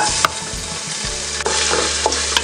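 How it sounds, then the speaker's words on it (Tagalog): Garlic sizzles in hot cooking oil as the first step of bakareta Bisaya, a steady close frying hiss with a few faint clinks and stirring bumps. "Ngayong mainit na po yung ating mantika ay pwede na tayong magsimulang magisa nitong ating bawang."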